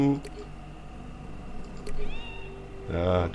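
A cat meows in The Unholy Society video game, a short cry with rising and falling pitch near the end, heard over game music and ambience while a person talks.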